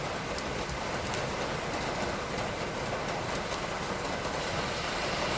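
Steady, heavy rain pours onto a busy street on a wet afternoon, a dense continuous hiss with no pauses, close and even throughout, with no voices.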